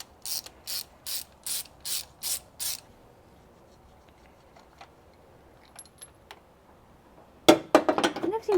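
A ratchet fitted with a spark plug socket clicks in six quick, loud bursts on a VW Scirocco Mk2 engine, followed by a quiet pause and then a jangle of metal tool handling.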